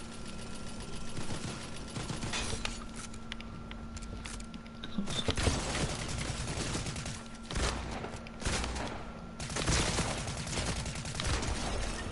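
Gunfire from a Fortnite zero build match: rapid, fairly distant bursts and volleys patter in waves over a steady background hum, with no talking.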